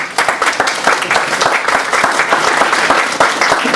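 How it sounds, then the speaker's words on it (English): A loud, dense round of applause fills a room at a political candidate night presentation, many hands clapping steadily from start to finish. "Let's have a round of applause."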